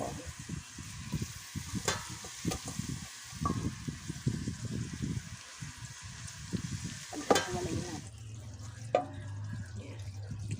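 Chopped banana heart sizzles in a pan with onions and garlic as it is stir-fried, a steady crackling hiss broken by scraping stirs and clatters. The frying quiets toward the end.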